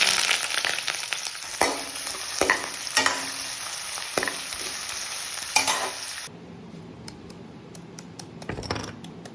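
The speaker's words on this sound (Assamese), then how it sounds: "এতিয়া কেৰাহীখনত অলপমান মিঠাতেল দি লৈছোঁ আৰু অলপমান পিঁয়াজ ফ্ৰাই কৰি লৈছোঁ" Onions frying in mustard oil in a kadai, a loud steady sizzle broken by repeated scraping stirs, then dropping to a quieter crackle near the end.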